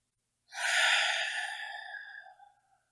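Deep, audible breath during a seated yoga stretch session, a single long airy exhale that swells quickly and then fades out over about two seconds, close and alone with no talking.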